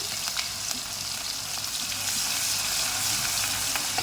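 Steady hissing sizzle of onions frying in a hot pan, close and continuous, with faint crackles and no talking.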